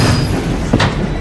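A passenger train running on rails, a loud continuous rumble and roar close by with a brief rising screech partway through.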